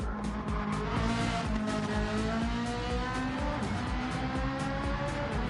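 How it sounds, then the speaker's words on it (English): Racing car on the Bathurst circuit in a video game, engine revving hard with skidding tires as a handbrake flick spins it around, loud and continuous with no talking. "Yeah, because I used the handbrake."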